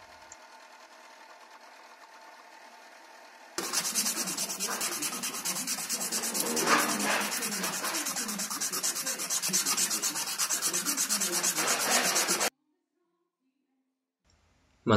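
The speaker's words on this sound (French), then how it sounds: "On rabote tout ça avec la ponceuse à bande" A belt sander whirs loudly and steadily for several seconds, grinding down rivets on a hunting dagger, then cuts off abruptly into silence.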